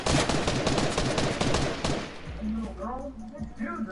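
Rapid assault rifle bursts crack loudly and close in an online shooter, dense and repeated for about two seconds. Then the firing stops and a voice talks over quieter game ambience.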